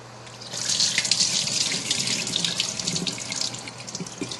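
Rice rinsed in a pot under a running kitchen tap: a steady rush of water that swells with splashing and sloshing as the grains are stirred, close and fairly loud, with no talking.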